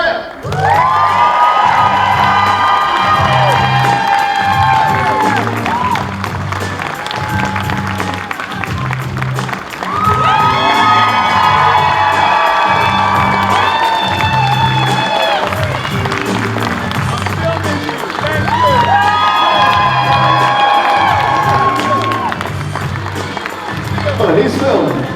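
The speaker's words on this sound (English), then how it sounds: "Big round of applause, Texas round of applause for the one, the only, Kevin Durand." A convention crowd at the TFW 2024 panel cheers, whoops and applauds to welcome actor Kevin Durand. The loud sustained clapping and shouting swells in waves over about twenty-five seconds, with music and voices mixed in.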